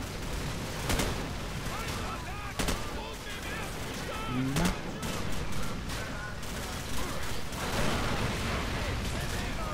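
Grenade blast amid dense, continuous gunfire and battle noise in Call of Duty: Modern Warfare, with sharp bursts and booms scattered throughout and a voice talking over the din.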